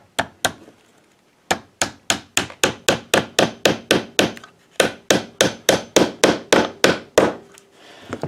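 Steady hammer blows drive a nail into a small piece of wood, about two dozen sharp knocks in quick even runs with a short pause near the start and another midway, loud and close with no talking.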